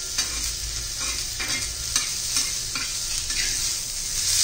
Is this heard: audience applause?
no